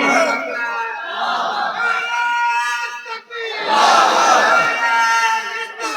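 A large crowd at a religious gathering shouts back in unison after a takbir call. Two long, loud, chanted waves of voices are separated by a brief dip.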